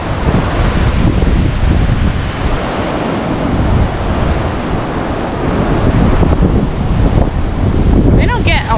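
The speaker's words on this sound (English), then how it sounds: "They don't get a lot of big waves here in the Gulf in Galveston" Strong wind and Gulf surf at a Galveston pier on a breezy day roar continuously and loudly, with gusts buffeting the microphone and waves crashing in a dense wash throughout.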